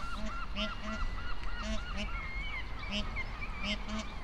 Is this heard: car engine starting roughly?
no